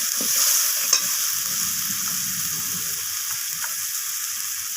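Ground cumin and other spices frying with onion and tomato for rui fish kalia, a bright, even sizzle with a few soft stirring scrapes underneath, close and steady.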